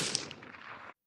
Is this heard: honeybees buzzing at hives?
no